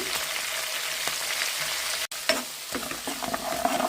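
Chana dal, mustard seeds, cumin, dried and green chillies and curry leaves sizzle in hot oil for a tempering. Frying crackles steadily and close, with brief stirring scrapes after a short gap.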